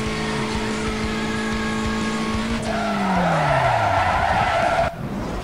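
Car in the racing game Need for Speed Most Wanted skids through a turn, a long loud tire squeal with falling engine pitch over about five seconds before cutting off abruptly.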